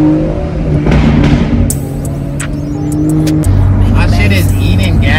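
A BMW M240i with an aftermarket downpipe, its engine and exhaust droning loudly and close, then revving and shifting to a deeper tone, with pops and crackles toward the end; someone talks over it.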